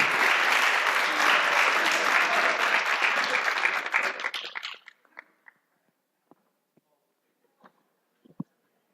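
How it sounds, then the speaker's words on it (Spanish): An audience at a game development event bursts into loud, dense applause that holds for several seconds, then cuts off abruptly, leaving only a few scattered late claps in near silence. "Un aplauso para él."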